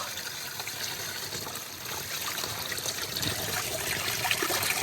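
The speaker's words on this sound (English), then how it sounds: "Got amazing flow here. I'm gonna drink this water." Water in a headwater stream in the high mountains flows and trickles steadily close by. The broad, bright babbling stays continuous and grows slightly louder, with no talking.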